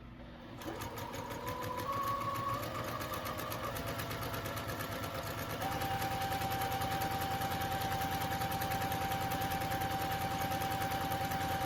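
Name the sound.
sewing machine stitching a circle on fabric jar cover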